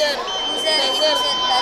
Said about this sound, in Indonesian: Ya, ini buzzer.